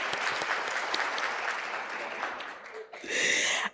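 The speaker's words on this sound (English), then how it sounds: "Please join me in giving her a round of applause." An audience at a Women's Day commemoration seminar gives a speaker a sustained round of applause, the clapping dipping briefly before a louder burst with a voice cutting through at the end.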